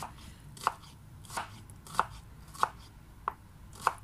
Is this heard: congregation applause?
no